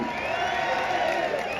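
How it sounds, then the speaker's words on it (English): A crowd at a London street protest cheers and whoops in a brief, steady burst of voices. "Let's give them a round of applause"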